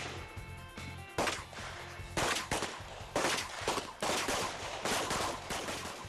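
Five pistol shots ring out at a shooting range, sharp loud cracks spaced roughly a second apart at an unhurried, even pace.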